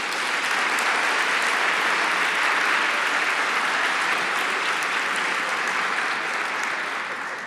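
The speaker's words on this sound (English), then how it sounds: "give them a big round of applause" A large gala audience applauds steadily and loudly for the full stretch, a dense wash of clapping that fades only slightly at the end.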